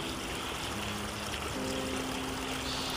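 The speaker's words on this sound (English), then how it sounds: "There's little waterfalls all through the bush." Small waterfalls trickling through Australian bush, a steady close rush and splash of running water that continues evenly without pause, with a faint tonal hum beneath it.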